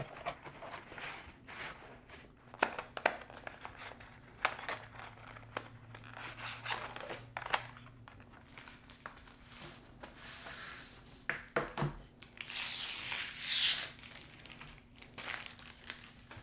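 Packaging for a Matias Wireless Aluminum Keyboard in space gray crinkles and rustles as it is unboxed, with scattered handling taps and a louder burst of plastic crumpling near the end, close and without talk.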